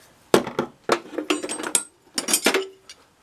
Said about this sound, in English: Pull out two of these. Two more wrenches.